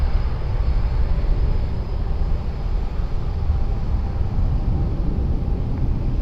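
An airliner takes off at Lisbon Airport, with a broad steady engine roar, heavy in the low end, holding at an even level from some distance and no voices.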